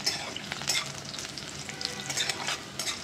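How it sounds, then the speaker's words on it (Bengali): Chopped garlic sizzles steadily in hot oil in a pan, with light scraping from stirring, for a Bengali masoor dal; a continuous close frying hiss with no talk. "তারপর একটু নাড়াচাড়া করে দেবো হালকাভাবে, যাতে রসুনটা একটু লাল লাল হয়ে আসে"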